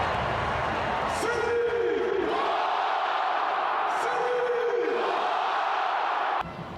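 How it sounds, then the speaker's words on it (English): A huge crowd roars and cheers at the Seahawks Super Bowl parade in Seattle, a dense, loud, continuous wall of voices with rising whoops and yells. "the city of Seattle was taken over by the Seahawks Super Bowl parade."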